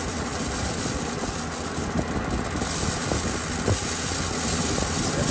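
A grain-cleaning machine blows light trash out of sorghum grain with a loud, continuous mechanical roar and rumble, steady throughout, broken only by faint knocks and rattles and no voices.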